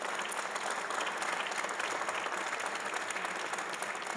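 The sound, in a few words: applause at sports centre inauguration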